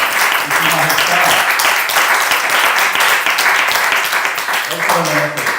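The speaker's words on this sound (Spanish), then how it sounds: "¿Por qué no le das un aplauso al Señor en esta tarde?" A church congregation applauds in praise during an afternoon service, steady dense clapping filling the room throughout, with voices speaking and calling out over it at times.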